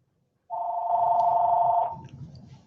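A telephone rings once in a room, a steady electronic ringing tone lasting over a second that then cuts off, clear and close with faint background noise.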